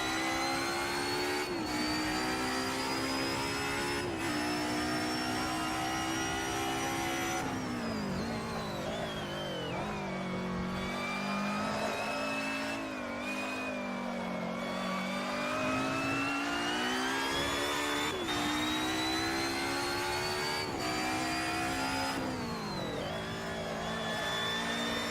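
A 1990s DTM Mercedes-Benz 190E racing car engine in Assetto Corsa at Zandvoort revs continuously, rising and falling in pitch with repeated gear shifts and brief dips before climbing again.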